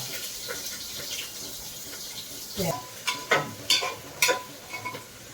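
Green chilies dropped into hot oil in a home kitchen give a steady close sizzling hiss, followed by several sharp spoon scrapes and clinks against the pan as they are stirred.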